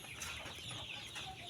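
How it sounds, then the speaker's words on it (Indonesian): KUB Janaka 2 chickens clucking, faint soft clucks and chirps from several birds overlapping in a quiet coop, low in level with no talk. "itu ayam KUB Janaka 2."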